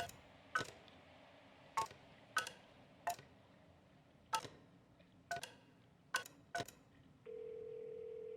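A telephone is dialed in the game Kentucky Route Zero. About ten sharp, evenly spaced clicks and tones sound alone, followed by a steady tone at the end.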